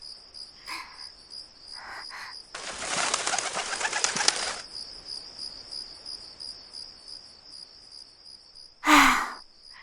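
A pigeon gives a few brief, soft coos over a constant high chirring of crickets, with a longer rustling burst in the middle and a louder call near the end.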